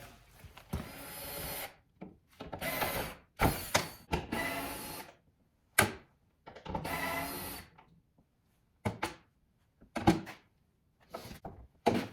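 Ratchet work on the hood nuts of a Dodge Grand Caravan being repaired after a deer strike: bursts of clicking and metallic rattles come close and clear, separated by short silences.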